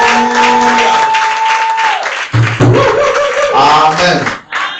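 Church congregation applauding and cheering loudly, a dense sustained burst with voices mixed in, close and filling the space.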